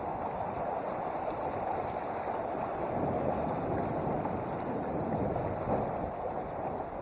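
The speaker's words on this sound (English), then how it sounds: "And there's the wind to help us." Steady wind buffets the microphone outdoors on a river during a paddling trip, a dense continuous roar with no distinct events and no talking.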